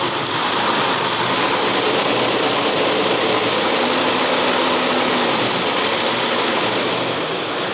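A Nissan Xterra 3.3 engine with 212,000 miles runs steadily after a new passenger-side exhaust manifold, giving a loud, close, even rushing drone with a low rumble and no talking.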